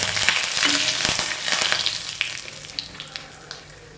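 Curry leaves and dried chillies crackle and sizzle in hot oil for a ginger curd tempering, with sharp close pops and spits that gradually ease over a few seconds.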